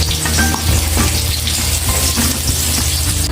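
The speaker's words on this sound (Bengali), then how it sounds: "5 ফোড়ন দিলাম," Panch phoron, the Bengali five-spice tempering, hits hot oil in a home kitchen and sizzles loudly and continuously at close range, with no voices.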